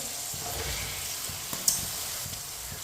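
Potatoes go into a frying pan with peas for matar pulao, giving a steady soft sizzle with light clinks and stirring scrapes, close and without talk.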